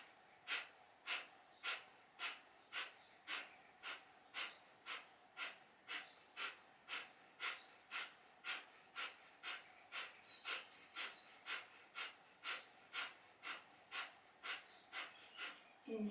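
Kapalabhati breathing in a yoga class, about two dozen sharp, forceful nasal exhales repeating in a quick, even rhythm, close and clear, with a brief pause in the pumping near the middle.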